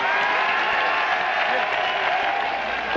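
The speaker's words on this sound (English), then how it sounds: "Kennedy has just entered the ballroom here at his election headquarters, and you can hear the pandemonium that has resulted." Crowd pandemonium in a packed hotel ballroom at Robert Kennedy's election headquarters as he enters, a dense continuous roar of applause and cheering voices, loud and unbroken from start to finish.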